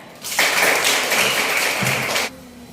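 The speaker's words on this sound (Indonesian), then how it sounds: "tepuk tangan" Classroom applause: a group of pupils claps in a steady, dense burst lasting about two seconds, then stops abruptly, leaving quiet room tone.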